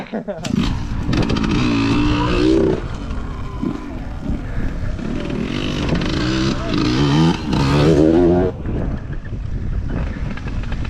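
Motorcycle engines roar past one after another, revving and shifting pitch as they go by, with wind buffeting the microphone and voices talking over them.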